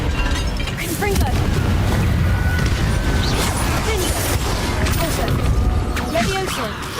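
Blasts from the Confringo fire spell in Hogwarts Legacy crackle and boom through dense, continuous game combat noise, with scattered impacts and crashes across the whole stretch.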